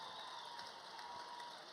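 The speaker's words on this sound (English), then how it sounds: "The Falcon fans give a nice round of applause to Vandenheide, who raises the second place trophy up" Basketball fans applaud a second-place trophy presentation at a boys' section semifinal game, a steady, dense wash of clapping and crowd noise filling the gym at moderate distance, with a few faint voices mixed in.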